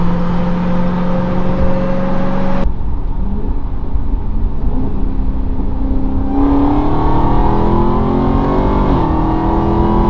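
A Dodge Hellcat's supercharged engine revs and pulls hard from inside the car, a loud droning roar with rising and falling whine as it shifts and accelerates.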